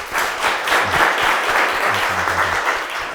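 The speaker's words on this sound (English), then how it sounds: "Please give them a round of applause." Applause for the panelists at a discussion on South Africa's education crisis: a close, sustained round of clapping from a seated audience, even in loudness throughout.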